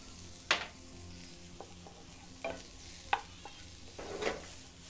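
Butter hits a hot pan for Turkish menemen, giving a soft sizzle with a few stirring scrapes and clinks, faint and close, with no voices.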